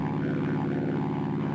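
A WWII U.S. dive bomber flies high overhead in a steady, continuous low engine drone that stays even and moderately loud, with a faint hiss over it and no voices.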